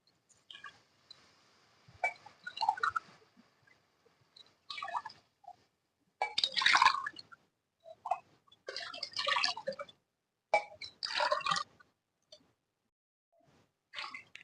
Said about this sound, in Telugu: వాటర్ అయితే వేస్తున్నాను నేను టూ గ్లాసెస్ రైస్ తీసుకున్నాను కాబట్టి ఇది ఫోర్ గ్లాసెస్ వేస్తున్నాను